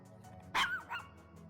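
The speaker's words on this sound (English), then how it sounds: "why are you barking?" A single short bark from a dog, fairly close and clear, followed by a softer second yelp against a quiet background.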